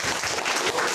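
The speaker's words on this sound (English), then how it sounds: "Wow, that's a nice applause." Dense applause from an audience at a nerd open-mic lightning talks night, a brief, steady burst of many hands clapping close by.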